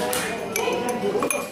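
Glassware clinks lightly as copper(II) oxide is stirred into acid, a few faint taps against the vessel under speech.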